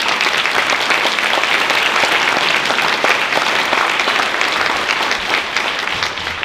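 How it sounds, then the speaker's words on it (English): Luncheon guests at a nonprofit's anniversary event applaud honorees with steady, dense clapping that stays loud and even before tapering a little at the close. "So let's give another round of applause to all of our"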